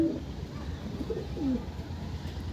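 Pigeons cooing in a loft housing a collection of Andhra pigeons, a few soft, low, throaty coos close by over a quiet background murmur.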